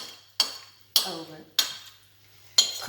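A spoon clinks against dishware as red lentil and chicken soup is served: four sharp, bright clinks spaced apart, each ringing briefly before fading into near silence.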